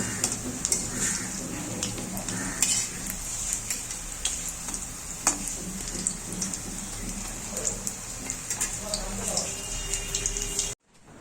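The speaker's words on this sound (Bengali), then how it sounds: "তো কুচো চিংড়ি বড়া করছি আর কি রান্না হচ্ছে তোমাদেরকে দেখাবো" Small shrimp fritters fry in a village kitchen with a steady, close sizzle and crackle, scattered sharp pops and ticks running throughout before cutting off near the end.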